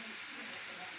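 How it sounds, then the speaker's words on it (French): Lemon cakes frying in hot oil, giving a steady, even sizzle and hiss that stays constant and fairly close throughout the short stretch. "c'est des gâteaux qui cuisent dans de l'huile"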